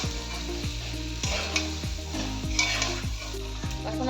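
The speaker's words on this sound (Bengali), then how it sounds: "ভেজে রাখা ফুলকপি, ফুলকপিটা দিয়ে আমি কিছুক্ষণ কষিয়ে নেব।" Fried cauliflower and potato sautéing in a pan, a steady close sizzle with the spatula stirring and scraping in a regular rhythm, no voices.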